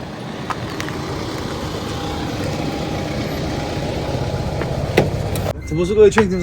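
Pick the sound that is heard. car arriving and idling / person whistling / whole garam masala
car arriving and idling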